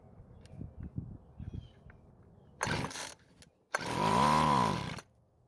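Gas weedeater string trimmer being pull-started: soft handling knocks, a short sputtering catch, then a pause before the small two-stroke engine roars up loudly and runs briefly before cutting off.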